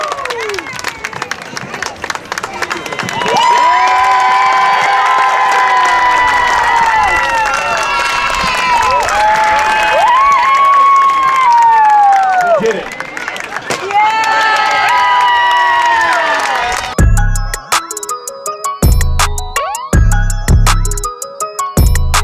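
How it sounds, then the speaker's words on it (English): A large crowd cheers and shouts loudly and continuously at a night event in Adelaide, the roar swelling and dipping with scattered claps, then cutting to a few sharp bursts near the end. "this is an amazing crowd"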